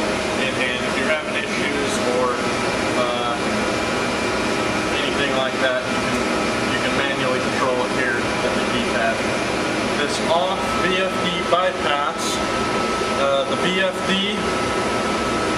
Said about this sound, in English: The drive is taking control of the motor, ramping it up and down where it needs to be.